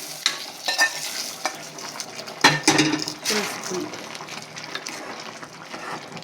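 Green gram being stirred in a pan as a hot tempering of mustard seeds, curry leaves and dried red chillies is poured in, with a brief loud sizzle and clatter followed by stirring and utensil sounds.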